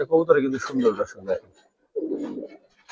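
Giribaz coloring pigeons coo in a few throaty, warbling bursts, close by, with a short pause before a final murmuring coo.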